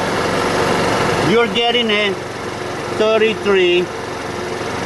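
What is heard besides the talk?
scooter engine idling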